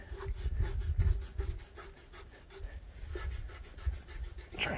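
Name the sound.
scrubbing an item while washing it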